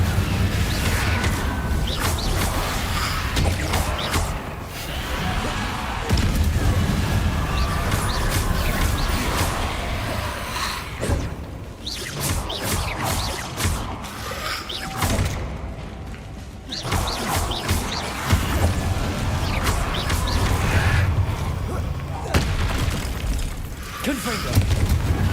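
Repeated Confringo fire spell explosions in Hogwarts Legacy, booming blasts and crashes scattered over game sounds with a voice talking at times.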